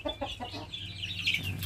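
A Plymouth Rock rooster clucks several times in quick succession, close by, followed by softer bird calls and low background noise.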